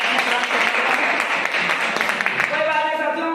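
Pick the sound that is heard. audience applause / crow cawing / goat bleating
audience applause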